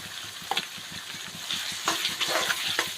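Onions with salt fry for a chicken curry, and a steady sizzle runs under repeated scraping strokes of a spoon stirring the pan, close and moderately loud, with no talking.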